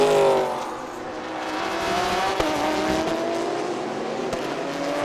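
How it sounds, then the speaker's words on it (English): GT3 race cars circuit racing at Buriram in Thailand, a steady engine roar with rising and falling pitch over about five seconds, heard from a distance and muffled as if through walls, with no talk. "you can hear the rumble right through the walls as we're racing right here down in Buriram"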